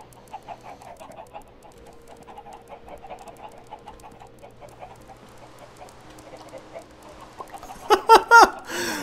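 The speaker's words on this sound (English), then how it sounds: "So many chickens" Chickens in the block-building game Blockville cluck softly and repeatedly in the background, building to a burst of louder, closer squawks near the end.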